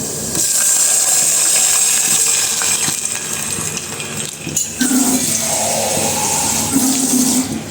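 Water poured into a pan of lightly fried dal, a loud rushing splash that churns on for several seconds with some clinking and bubbling, close by and without speech.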